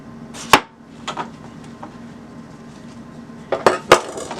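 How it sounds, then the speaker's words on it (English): A large knife cuts strips of vinegar-soaked pepper on a board, giving a few sharp, close chopping clicks, two early and a quick pair near the end, with quiet pauses between. "I want to show you how easy it is to cut the strips"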